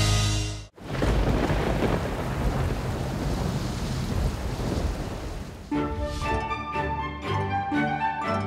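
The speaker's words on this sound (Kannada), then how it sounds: "ಮಳೆ ತುಂಬಾ ಜೋರಿದೆ" Heavy rain pours loudly and steadily in a city street during a sudden downpour, with a brief break early on, then bright, rolling rumbles of thunder building over the rain in the final seconds.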